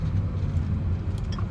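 A BMW engine rumbles steadily from inside the car during a gear shift, a low, even drone with no talking.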